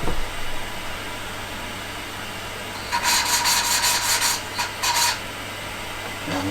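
Valves being lapped into the cylinder head of a classic Fiat 500 engine, a gritty rubbing rasp in several short back-and-forth bursts partway through, over a steady low background hum.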